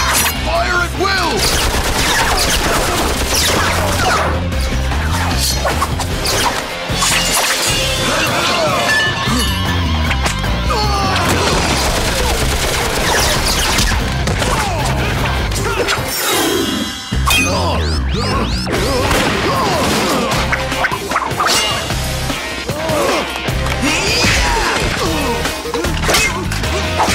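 Cartoon gunfire in rapid volleys mixed with loud smashing and crashing impacts and metallic clinks, dense and continuous throughout, with voices and music running underneath.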